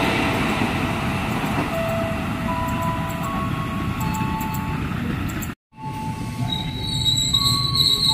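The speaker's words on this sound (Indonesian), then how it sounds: "jalur 2 masuk komuter line kedua tujuan Bogor" A CommuterLine electric train pulls into Cilebut station in Bogor, a loud steady rumble of wheels and rail with squealing tones, briefly cut by a short gap before the noise resumes.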